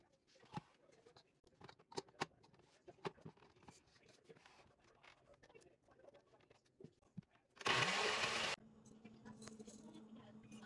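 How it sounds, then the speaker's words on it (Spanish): A kitchen blender whirs into a loud, steady roar for about a second as water and ingredients are blended, cutting in abruptly after a stretch of quiet clatter and taps, then giving way to a lower running hum. "Ahí lo que va a echar es agua a la licuadora, pues para licuar todo lo que echó"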